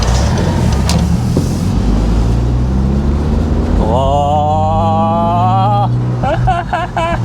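A Honda CR-Z Mugen RZ accelerates in a high gear, its loud engine drone rising steadily in pitch from inside the cabin, with a brief exclamation heard over it.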